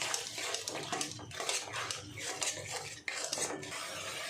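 Spoon stirring beaten sour yogurt into spiced masala in a pan while cooking a prawn and pointed gourd curry: scraping, clinking strokes against the pan, close and moderately loud, in an uneven rhythm with brief pauses.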